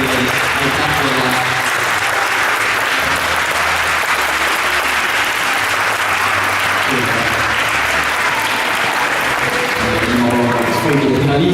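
An audience applauds the finalists at a dance competition, loud sustained clapping from a large crowd that carries on throughout, with a presenter's amplified voice speaking over it at times.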